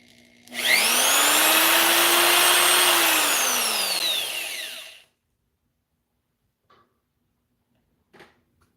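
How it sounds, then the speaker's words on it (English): A power sander whines loudly for about four seconds while sanding a 1943 half dollar being made into a coin ring, pitch dipping slightly under load, then spins down to silence followed by a couple of faint knocks. "sanding this part down really nice"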